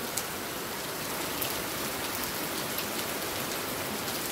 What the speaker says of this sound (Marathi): नुसता पाऊस। तुमच्याकडे आहे का असा पाऊस मित्रांनो?